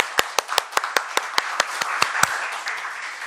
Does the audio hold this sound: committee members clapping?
yes